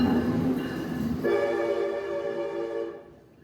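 A train pulling into a New York City station in the cold sounds a long, loud horn over a rumbling roar. The blast holds steady, then it cuts off and the noise falls away to a quiet hush.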